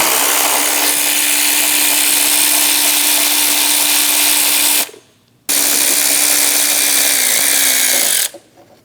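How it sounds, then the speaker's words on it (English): A power tool drives a 12mm socket to remove the lower power steering pump bolts on a 2005-2009 Subaru Legacy, whirring loudly and steadily for several seconds, stopping briefly, then running again before cutting off. "Using a 12mm socket, we're going to remove the 2 bottom bolts for our power steering pump."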